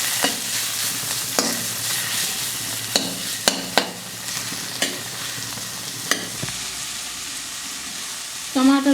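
Tomatoes fry in a pan for a Nepali-style egg chow chow soup, giving a steady close sizzle with repeated sharp scrapes and taps of the spatula stirring, and a brief louder clatter at the end.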